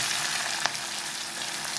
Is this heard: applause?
no